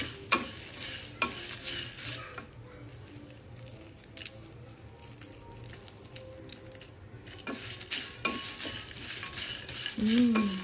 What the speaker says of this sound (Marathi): त्याला पहिले याला भुजून घेते चांगल्या प्रकारे, मग मिक्सरला फिरवते